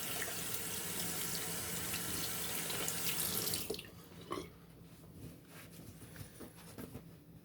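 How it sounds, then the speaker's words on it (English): A bathroom tap runs steadily as hands are rinsed under it, a close, even rush of water that cuts off partway through, leaving faint drips and small handling sounds. "Rinse off the hands."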